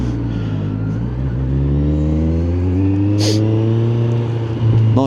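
A Kawasaki Z1000SX motorcycle passing close by, its engine note rising and shifting steadily over several seconds above the rider's own engine drone and wind rush.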